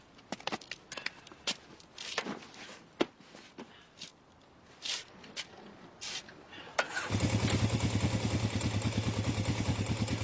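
A motorcycle starts up after a stretch of scattered clicks and clatter, then settles into a loud, steady, throbbing engine run nearby. No one speaks.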